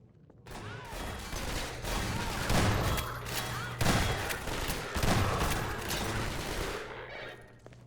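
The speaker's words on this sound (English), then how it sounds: "Can I just let her do all the shooting?" Companion gunfire in Half-Life 2, a dense, sustained barrage of rapid shots with sharp cracks and impacts, fairly loud and continuous, with faint voices underneath.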